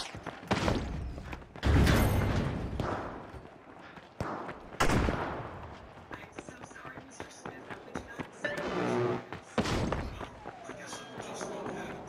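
A frag grenade is thrown and explodes in the arena shooter The Finals amid a firefight. Loud booming blasts and heavy thuds repeat among bursts of gunfire, dense and close, with voices mixed into the chaos.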